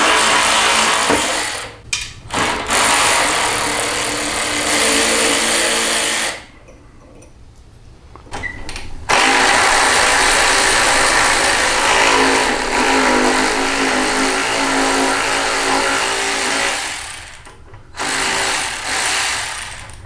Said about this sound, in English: So Josh is just gonna take the rear hanger bracket bolts out and then remove the slip-on muffler bracket